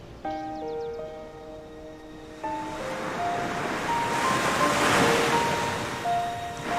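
Sea waves wash steadily onto the shore, a broad surging rush that swells toward the middle. Soft musical tones play over the surf.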